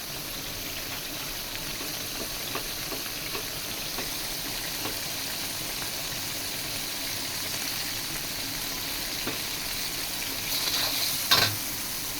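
Fish are added to a curry of potatoes and vegetable stems frying in a pan, giving a steady soft sizzle with faint stirring scrapes and a brief louder clatter near the end.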